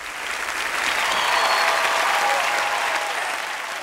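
A cải lương vocal competition audience applauds in a theater, a dense, steady wash of clapping that holds loud and even for a few seconds, alone.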